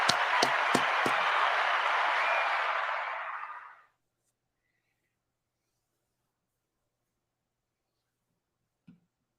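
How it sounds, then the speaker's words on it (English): A round of applause for David Johnson, a few sharp claps and then a dense burst of clapping that fades out after several seconds into near silence. "Round of applause, David Johnson."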